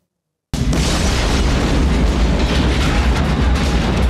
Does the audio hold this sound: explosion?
yes